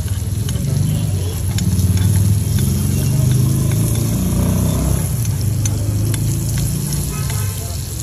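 Egg mixture sizzling in a buttered appe mould at a Nagpur breakfast stall: a steady, loud frying hiss that runs unbroken throughout, with no talking.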